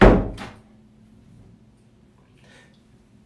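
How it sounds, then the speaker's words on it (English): A door swings shut with a single dull thunk right at the start, close and fairly loud, followed by a quiet room with a faint rustle later on. "Close the door."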